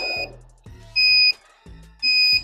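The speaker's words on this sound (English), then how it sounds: "I think this should come standard with not making a beeping noise when you back up" SuperHandy GoRide 2 wheelchair backup alarm beeping while reversing: three steady, loud electronic tones about a second apart, with motor hum and low whine between them.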